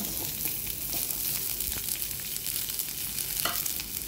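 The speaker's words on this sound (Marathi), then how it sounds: "त्यामध्ये थोडंसं तेल घालून आपल्याला कांदा पण लालसर परतून घ्यायचा आहे." Onion sizzles in a little oil for stuffed tinda, a steady close frying hiss with occasional stirring scrapes and small pops, no voices.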